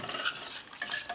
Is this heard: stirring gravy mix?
yes